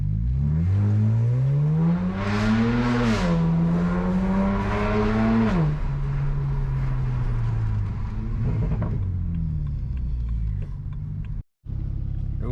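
A BMW car engine revs and accelerates through rising and falling pitches, loud and close, then settles toward idle with a brief blow-off valve hiss near the end.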